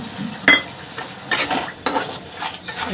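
Spiced masala with ground tomato paste sizzling in oil in a pan, stirred with a spoon that scrapes and clinks against the metal in several sharp strokes over a steady fry.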